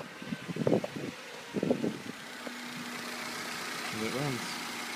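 A 1998-2000 Honda Civic GX running on compressed natural gas, just after a high-pressure fuel filter change, settles into a low, steady idle hum after someone speaks, with his voice briefly returning over the running engine.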